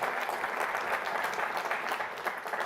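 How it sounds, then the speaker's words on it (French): Dense, sustained applause from an audience for a minister at a launch event, loud and continuous throughout. "On peut effectivement vous applaudir."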